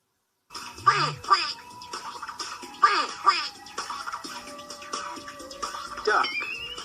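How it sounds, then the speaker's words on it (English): A duck quacks in a short educational clip, several nasal calls in bursts, with other voices and mixed sounds overlapping at moderate loudness. "Duck."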